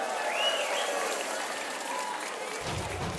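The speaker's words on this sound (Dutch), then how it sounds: "Mag ik een groot applaus voor de nieuwe voorzitter van de Stichting LVK, Roel Flory." Audience applause in a hall for the new chairman of a carnival song foundation, broad and steady, heard beneath a voice and music.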